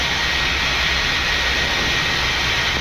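Ethiopian Airlines Boeing 787 Dreamliner jet engines spooling up for a takeoff roll on runway 01, a steady, loud, broadband roar with a high whine, continuous and unbroken throughout.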